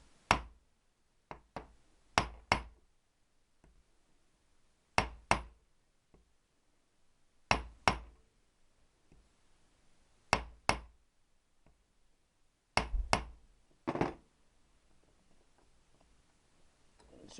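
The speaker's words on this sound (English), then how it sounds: "So when a nut's stuck, you tap it on, it's flat." Stuck nuts on a Triumph T120R motorcycle engine casing being tapped flat, sharp close metallic knocks in irregular pairs and clusters separated by quiet gaps.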